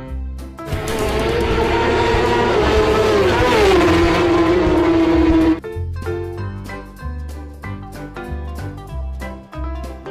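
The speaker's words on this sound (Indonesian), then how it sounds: "Motor balap." A toy racing motorbike sounds off with a loud, continuous engine whine that rises in pitch for several seconds and then cuts out, followed by a bouncy backing tune.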